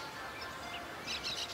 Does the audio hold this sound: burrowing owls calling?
yes